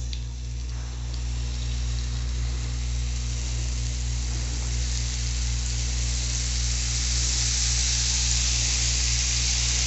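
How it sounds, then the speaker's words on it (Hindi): Malpua batter poured into hot oil sizzles and fries with a steady, close hiss that holds level throughout, with no talking. "ये इस तरह से हम डालेंगे"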